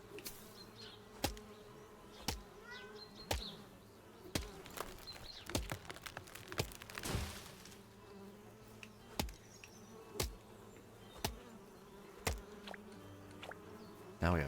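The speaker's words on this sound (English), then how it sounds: "Now I have 2 bees." Bees in the Chop Chop Inc video game buzz steadily and faintly, with sharp regular chopping cracks about once a second over the drone.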